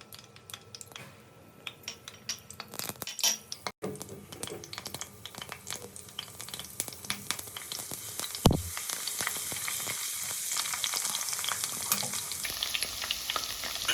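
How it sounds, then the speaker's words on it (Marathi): Finely chopped garlic hits hot oil in a tempering for a Konkan-style surmai fish curry over a raised gas flame, giving a steady crackling sizzle that swells louder partway through, with scattered clicks of stirring and utensils. "आपण लसूण बारीक केलेला टाकूया फोडणीत."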